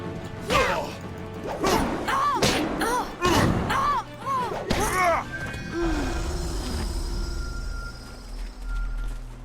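A cannon shot strikes the player character in the video game Jade Empire, landing as a string of heavy thuds and crashing impacts among grunting combat voices, followed by a lower, quieter tail of game ambience.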